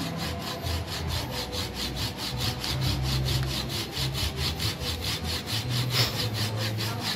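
A hand saw cuts through the wood of an old yellow apricot blossom tree over 30 years old in a steady back-and-forth rhythm, each stroke a loud rasping rub, continuing without pause close by.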